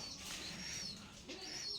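Caged Giribaz pigeons coo softly in low, rolling murmurs, faint and close, with a light background hiss and no talking.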